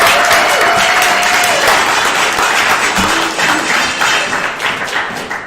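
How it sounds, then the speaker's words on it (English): A crowd applauds at a live drag show, clapping thickly and steadily for the whole stretch with a few whoops and shouts mixed in. "Give yourselves a round of applause for being a good sport."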